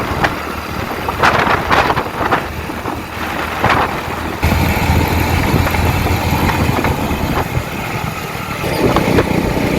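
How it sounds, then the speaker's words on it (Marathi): An MSRTC Lalpari state transport bus approaches on the village road at Dingani on the Karjuve route, its engine rumbling and growing louder, with a rougher surge partway through as it draws near. "हे बघा आपल्या आता लालपरी आलेली आहे"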